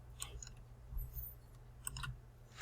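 Mouse clicks while selecting a link in Canva, a few sharp, quiet clicks spread over a low steady hum, with a slightly louder click at the end.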